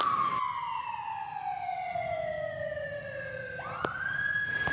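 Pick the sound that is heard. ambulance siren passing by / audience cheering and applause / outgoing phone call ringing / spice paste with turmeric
ambulance siren passing by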